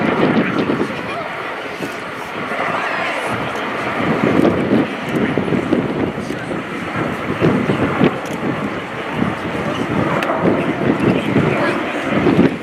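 An Airbus A400M Atlas military transport of the RAF's 70 Squadron flies a display at RIAT 2018, a broad distant engine roar under heavy wind noise while commentators talk over it.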